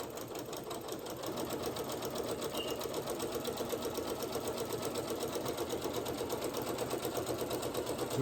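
A sewing machine runs a continuous back stitch on a braided twist placemat, its needle chattering in a fast, even rhythm, close and steady throughout with no voices.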